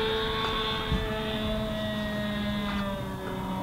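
An OS 46 glow engine on a SIG Somethin Extra RC plane running nitro fuel drones steadily with a buzzing, harmonic whine, wavering slightly as it sputters and bogs, heard alone throughout without any talking.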